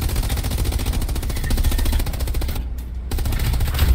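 Rapid machine-gun fire rattles in a fast, loud, near burst in the World War II shooter Hell Let Loose, sustained for several seconds with a brief gap before it resumes.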